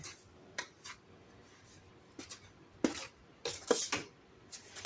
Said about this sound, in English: So I'm just going to continue stirring and stirring